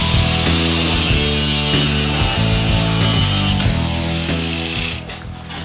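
Hand saw cutting excess wood away from a carved bird's beak, steady rasping strokes close up and loud, with a tonal ringing hum running under the sawing before it tapers off near the end.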